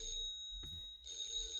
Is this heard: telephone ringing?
yes